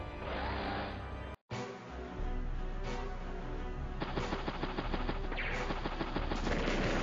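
Artillery and infantry attack in the video game Advance Wars: Days of Ruin, with loud game battle sound effects of rapid crackling gunfire and blasts over steady game audio, broken by a short gap.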